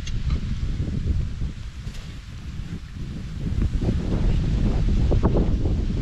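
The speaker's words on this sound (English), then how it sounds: "At least it's nice and windy." Steady wind buffets the microphone with a low, rumbling roar that swells louder toward the end; no one speaks.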